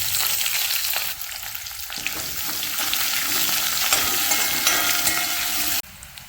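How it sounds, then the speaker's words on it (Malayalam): Mustard seeds spluttering in hot oil with chopped onion and green chilli, a loud dense crackle and sizzle that keeps rolling, dropping suddenly quieter at the very end. "കടുക് പൊട്ടി തുടങ്ങിയിട്ടുണ്ട്."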